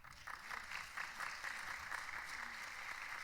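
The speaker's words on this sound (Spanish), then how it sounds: "le damos un aplauso entonces" A church congregation claps to welcome a newcomer, steady moderate applause with a clear rhythmic pulse of hands, mid-distance in a hall with no voices over it.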